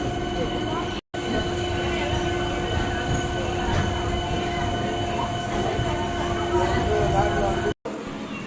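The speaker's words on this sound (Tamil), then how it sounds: "after the train stops at platform" A MEMU passenger train arriving at a platform rumbles steadily close by with a constant metallic hum and wheel squeal, broken by two brief dropouts.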